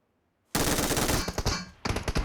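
Automatic gunfire in the battle-royale game PUBG Mobile, a loud rapid burst erupting after a moment of silence, pausing briefly, then a second close burst of shots.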